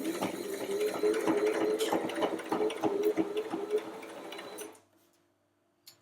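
A Brother LS14S sewing machine stitches steadily with a rapid mechanical chatter, close and fairly loud, then stops abruptly near the end, leaving near silence and a single faint click.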